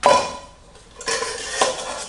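Clinks and light clanks of an Alpin Loacker Storm Kit Pro camping cookware set with pot, gas cartridge and burner being handled, a few close metallic knocks with quiet scraping between, no voices.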